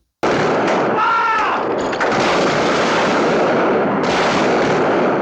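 Gunfire from an Anglo-Zulu War battle. Heavy volleys and booming shots merge into a loud, dense, continuous roar that begins abruptly and barely lets up.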